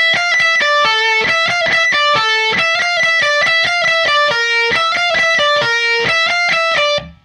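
Electric guitar plays two bars of a riff, a steady run of fast picked, distorted notes with bright ringing overtones, close and loud, stopping abruptly at the end.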